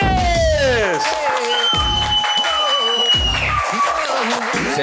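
A studio audience at a Turkish rap show claps and cheers loudly throughout, with whoops and swooping electronic sound effects layered over the steady applause.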